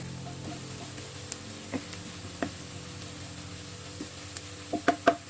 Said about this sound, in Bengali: পেঁয়াজগুলি আমার ভাজা ভাজা হয়ে আসছে প্রায় এক চা চামচ পরিমাণ জিরে আমি দিয়ে দিলাম